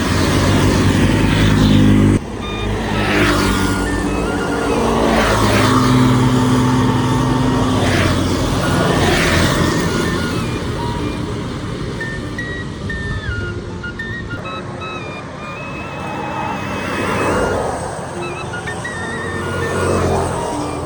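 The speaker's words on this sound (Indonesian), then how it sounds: "ramai banget ini jalanan" Busy street traffic on a roadside in Subang, with cars and motorcycles passing continuously, engines loud and close, swelling and fading as vehicles go by.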